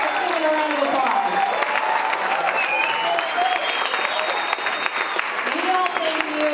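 Rally crowd applauding veterans, dense sustained clapping and cheering filling the hall, loud and close throughout with a voice speaking over it.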